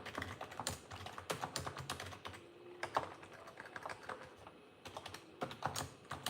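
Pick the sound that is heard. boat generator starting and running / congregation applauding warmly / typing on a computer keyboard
typing on a computer keyboard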